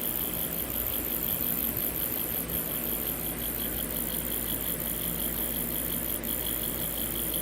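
A Bedini wheel turns with an oscillating spark gap feeding a solar panel, giving a steady mechanical whir and buzzing hum with a faint repeating high-pitched pulse, constant and close throughout.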